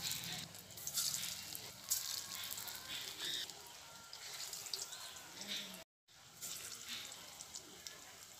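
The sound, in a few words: chital fish muitha dumplings frying in oil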